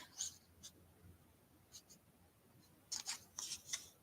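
Scissors snipping ribbon ends on a handmade Easter bunny card: a few quiet, sharp snips close by, one early and a quick cluster of three or four near the end, with soft rustling in between.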